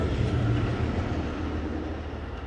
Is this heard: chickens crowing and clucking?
no